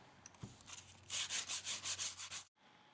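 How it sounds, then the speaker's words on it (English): Hand sanding the cut edges of particle board pieces: a light knock, then about eight quick, even back-and-forth rasping strokes, close by and steady, ending abruptly. "I cut out the pieces of particle board and sanded down their edges."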